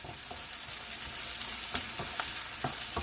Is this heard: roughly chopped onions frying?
yes